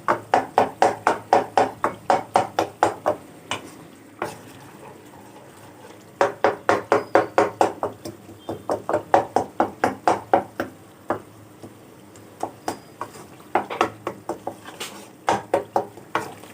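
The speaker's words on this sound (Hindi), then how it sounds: "थोड़ा सा हम चम्मच की मदद से इनको दबा देंगे" A spoon presses softened cooked tomatoes in a pan, a steady series of close, rhythmic knocking taps against the metal in bursts with brief pauses; no voices.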